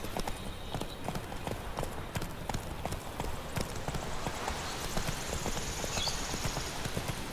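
Roach, the horse in The Witcher 3: Wild Hunt, gallops with a steady, close clip-clop of hooves over a continuous bed of ambient game sound, with a brief whinny-like cry near the end.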